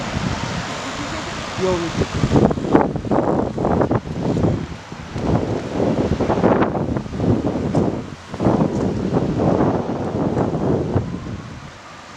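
Gusty wind buffets an outdoor microphone beside flooding in Calgary, a steady broadband roar running the whole time beneath continuous nearby conversation.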